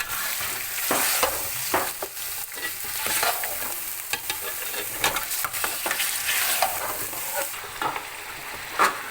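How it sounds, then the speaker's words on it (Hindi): Mutton pieces stir-fried in masala in a pot for korma sizzle loudly and continuously, with repeated scraping and stirring knocks throughout. "इसको हम भुनेंगे जब तक इसका कलर चेंज नहीं होता"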